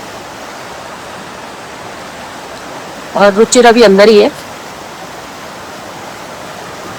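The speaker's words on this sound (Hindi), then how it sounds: "आवाज़ वैसे कम आ रही होगी, पानी की शोर ज़्यादा है।" A loud mountain stream rushes in a constant, even roar throughout, with someone briefly speaking over the water near the middle.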